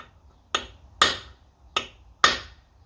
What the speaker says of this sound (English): I'm gonna put a punch on here, brass punch, give it a couple wraps